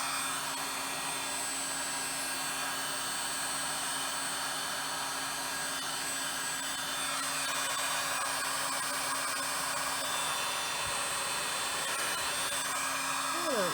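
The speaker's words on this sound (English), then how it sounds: "While my heat gun is heating up, I am going to just heat the back." A heat gun blows with a steady, even hiss and whir, running continuously at close range during a Halloween card-making craft session.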